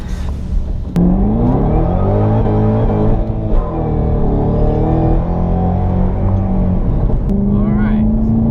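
A Ford Mustang GT500 drives on a freeway with a loud, steady engine drone and rising and falling whine; people talk over the engine noise inside the car.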